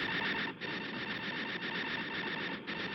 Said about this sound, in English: Sounds like the printer's stuck.